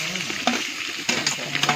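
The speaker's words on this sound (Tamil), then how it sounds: "ஃப்ரெண்ட்ஸ், இப்போ கடுகு நல்லா பொரியுது." Mustard seeds splutter and crackle in hot oil while tomato rice is being cooked, with quick, irregular pops over a soft sizzle, close and fairly quiet.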